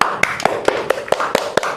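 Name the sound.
group clapping hands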